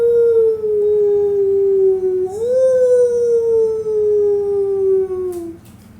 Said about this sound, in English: the whole pack, on haunches, with noses pointed skyward, was howling its hunger cry.